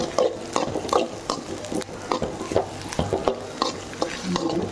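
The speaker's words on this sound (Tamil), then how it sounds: "நல்லா வதங்கிடுச்சு, எல்லாம் சேர்ந்து நல்லா வதங்கிடுச்சு" Okra sautés in oil in a pan while a spoon stirs it, giving a rhythmic series of scraping strokes over a soft, constant sizzle, up close.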